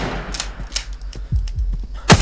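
Video-game gunfire from a hunting game, several sharp shots spaced unevenly across a couple of seconds, loud and close, with a heavier final blast at the end.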